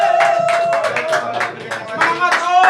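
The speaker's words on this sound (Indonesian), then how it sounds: "yuk kita tepuk tangan dulu yuk" A crowd at a Honda Doeloe Club gathering claps in quick, uneven bursts, loud and close, while a voice carries on over the clapping.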